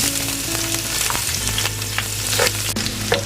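Ginger, garlic and green chilies sizzle in hot oil with mustard seeds, a steady close crackling fry with occasional stirring clinks and no voices.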